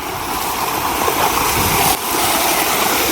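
Loud, continuous roar of rain floodwater rushing down like a waterfall into a canal, a dense broadband wash that stays steady throughout with a brief dip near the middle.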